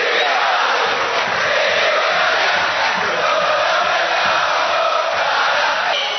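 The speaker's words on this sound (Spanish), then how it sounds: "por supuesto la ovación" A stadium crowd at a football match between Tigre and Estudiantes gives a sustained ovation, a dense, loud roar of cheering and shouting that holds steady throughout.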